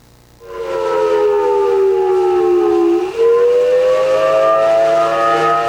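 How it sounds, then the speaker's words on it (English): A loud air raid siren wails steadily during wartime, its pitch dipping briefly partway through before rising and holding again, sounding alone without talk. "behind me now you hear the air sirens going off once again"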